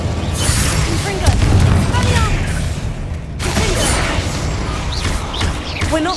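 Blasting Confringo spell explosions in the video game Hogwarts Legacy, a heavy burst followed by sustained rumbling booms and crashing debris, loud and close, with a voice speaking over the din.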